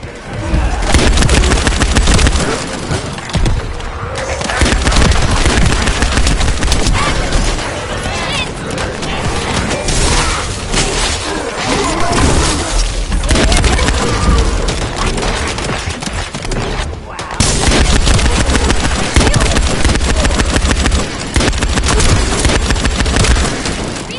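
Dense, continuous gunfire and explosions from the shooter game The First Descendant, loud and sustained throughout with heavy booms, under sporadic voice callouts.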